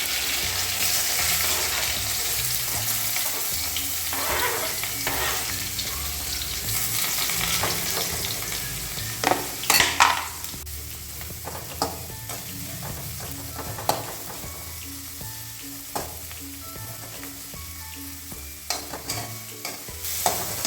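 Chopped ingredients sizzling in hot coconut oil while being stirred, a steady crackling fry broken by scraping spoon strokes and occasional clinks against the pan.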